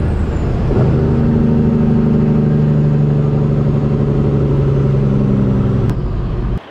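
A Peterbilt truck's engine idles loud and close with a steady low drone that rises into a stronger, even hum after the first second and holds, then cuts off abruptly near the end.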